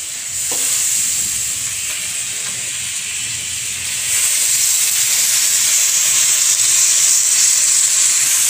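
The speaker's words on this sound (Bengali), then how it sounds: "এবার এই জল থেকে চালটা ছেঁকে ছেঁকে আমি ভাজার মধ্যে দিয়ে দিচ্ছি।" Drained soaked rice drops into a pan of fried spices and sets off a loud, steady sizzle and hiss that swells partway through and keeps going, close and without speech.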